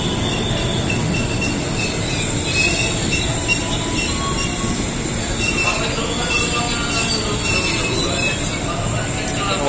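A crowded commuter train on the Jabodetabek line rolls past with a loud, continuous high-pitched squeal of wheels on rails over a steady rumble, close by, with faint voices underneath.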